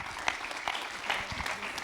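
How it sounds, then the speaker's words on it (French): Steady applause from a crowd, a dense patter of clapping that holds evenly for a couple of seconds. "On applaudit Fabrice."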